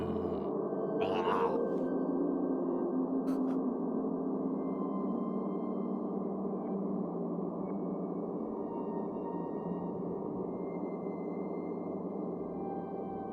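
A dense, sustained Eurorack modular synthesizer drone with frozen reverb washes on without a break, smeared and reverberant, with a brief higher shimmer near the start.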